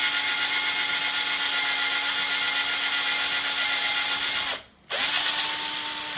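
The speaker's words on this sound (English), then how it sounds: "you take your drill, put it right into the pilot hole there, and then just slowly and carefully" A power drill whirs steadily while boring an off-center line tie hole into a wooden fishing plug, loud and close, then briefly stops and restarts near the end.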